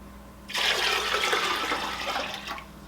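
Tap water gushes steadily for about two seconds into a pot, measuring out eight cups for brown sugar glazed carrots in a homestead kitchen, moderately close and with no talking.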